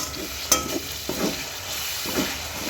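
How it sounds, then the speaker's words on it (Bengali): Ginger garlic paste frying in a pan, a moderate crackling sizzle with a sharp clack and a few stirring scrapes, close up and with no voices. "এবার দিচ্ছে হচ্ছে আদা রসুনের পেস্ট।"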